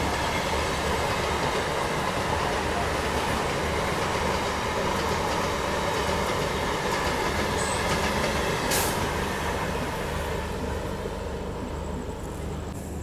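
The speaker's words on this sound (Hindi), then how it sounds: "Local EMU train." A local EMU electric train rushes past on an Indian rail line with a loud, continuous rumbling roar of wheels and cars, heard steadily up close throughout with no talking.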